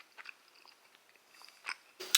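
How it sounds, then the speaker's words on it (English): Gum being chewed close to the mouth, with soft irregular wet clicks and crunches that grow louder at the end. "I can't hardly chew any more gum."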